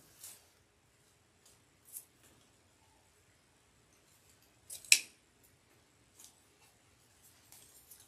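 Scissors snip the stem tails of sunflowers for a wreath, giving scattered quiet clips and one louder, crisp cut midway, close by in an otherwise hushed room.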